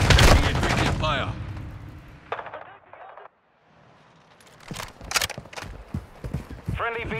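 Gunfire in a military shooter video game: bursts of rapid shots and sharp cracks open the scene, fade through a brief silent gap, then return as scattered shots and impacts, with game voice lines over the action.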